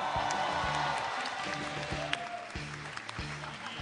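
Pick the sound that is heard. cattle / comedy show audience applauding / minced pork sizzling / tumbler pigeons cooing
comedy show audience applauding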